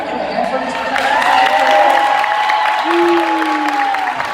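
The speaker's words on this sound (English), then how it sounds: "Can you give a hand for these percussion" Audience clapping for percussion students at a school band concert, a steady wash of applause from a crowd with voices talking over it.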